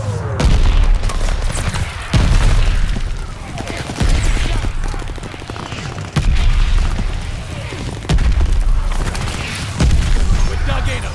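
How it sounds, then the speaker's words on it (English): A mortar barrage in the Call of Duty Vanguard video game, with loud, close explosions and rapid gunfire bursting every couple of seconds in a dense, continuous battle din. "Allies calling a mortar barrage."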